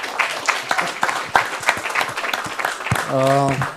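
An audience claps for a presenter in a steady patter of hand claps while someone speaks loudly over it, with his voice rising clearly toward the end.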